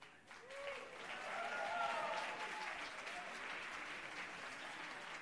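An audience claps for a singer at a music award show, steady moderately distant applause with crowd noise, a few faint whoops rising over it throughout.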